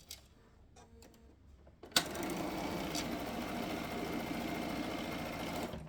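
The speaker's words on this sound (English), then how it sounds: "sew 1/4 inch from either side of the line" A sewing machine stitches quilt half-square triangles a quarter inch from a drawn line, with a few soft clicks first, then a steady, close mechanical whirring run that continues to the end.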